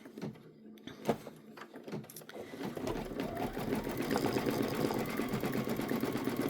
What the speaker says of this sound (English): It's going to do bean stitching around the strap, around the ID holder, and around the eyelet tab.